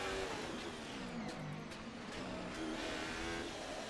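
F1 race car engines in a 2024 French Grand Prix racing video game drone and whine steadily as cars run side by side through a flat right-hand corner, a faint, continuous engine tone with slight pitch shifts.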